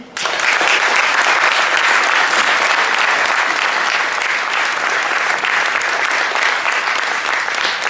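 Dense, sustained applause from a large audience at a tournament ceremony in Paris, honoring a named guest; steady and loud throughout after a brief quiet start, with no talk over it.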